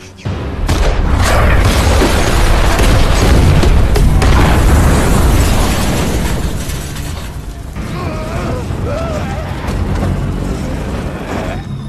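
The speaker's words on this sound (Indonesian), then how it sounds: "tembakan itu berhasil mengenai tangki mobil yang otomatis mobil meledak" A loud, booming car explosion in a film, set off by a shot hitting the fuel tank, with crackling debris and rumbling that slowly fades into lingering noise and scattered clatter.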